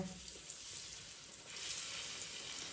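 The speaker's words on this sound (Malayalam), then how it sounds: "തിളച്ചെണ്ണയിലേക്ക് ഇട്ടാൽ വട റെഡി കണ്ടോ." Urad dal vada deep fries in hot oil, a dense, even hiss of bubbling oil that holds steady and close throughout, with no voices.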